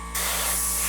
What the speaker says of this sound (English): I'll continue to spray just to show you